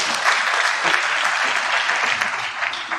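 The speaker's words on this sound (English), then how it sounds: "Maybe can you give another round of applause?" Applause from an audience at a charity gathering, dense and sustained clapping that stays loud and steady for a few seconds, filling the room with no voices standing out.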